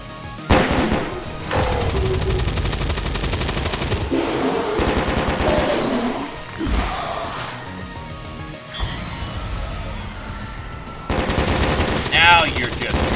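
Turret machine gun fire in XCOM 2, loud rapid bursts of automatic shots repeating over several seconds with brief pauses, mixed with game effects and a voice speaking over parts of it.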